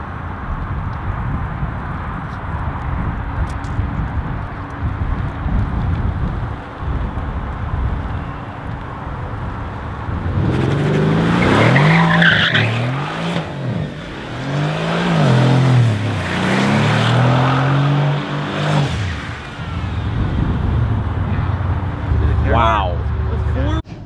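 A 2019 Mercedes C63S AMG engine during a burnout attempt, idling low at first, then several loud revving bursts in the middle and later part, with a person talking around them.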